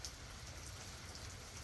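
Rain from a storm ahead of Hurricane Milton falls steadily, an even, soft hiss with low rumble underneath, constant and fairly faint with no voices.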